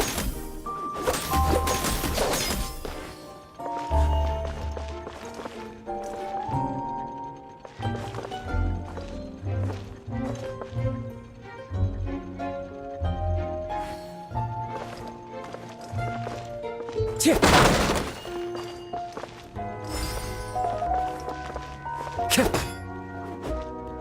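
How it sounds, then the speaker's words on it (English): Wooden boxes being smashed in the video game Genshin Impact, with repeated loud cracking crashes and thuds at irregular intervals over game music and effects, fairly close. "Can't you destroy the boxes a little more quietly?"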